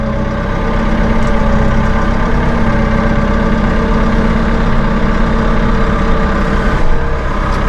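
A Massey Ferguson 2M.60 Power Shuttle compact utility tractor idles close by, its diesel engine holding a loud, steady low rumble with an even throb throughout and no talk.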